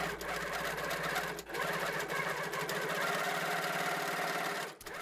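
A long arm quilting sewing machine stitches in a steady, fast mechanical chatter with a continuous hum. The sound is close and uninterrupted apart from two brief dips.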